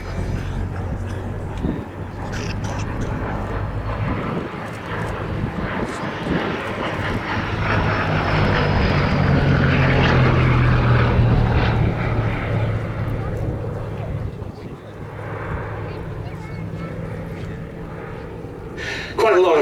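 A Gloster Gladiator biplane flies at Duxford with a steady piston and propeller drone that swells louder toward the middle and then eases, heard from outdoors on the ground with some wind buffeting.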